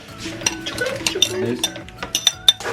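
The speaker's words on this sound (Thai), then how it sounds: "ใส่ปลากระป๋องลงไปผัดเลย ใส่ทั้งน้ำและเนื้อนะคะ" Canned fish, liquid and flesh together, is stir-fried in a pan over medium heat: a quick run of close spatula scrapes and clinks against metal, with faint sizzling underneath.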